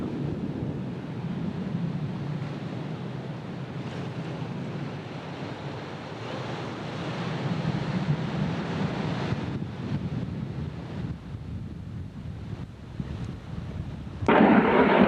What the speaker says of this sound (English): Now that's the surf you hear right now